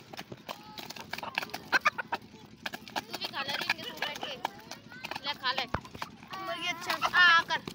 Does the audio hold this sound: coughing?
no